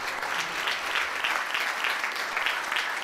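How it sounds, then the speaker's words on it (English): Steady audience applause filling a lecture hall at an evening science-and-cocktails talk, dense continuous clapping with no voices rising above it. "So let's give them a big round of applause."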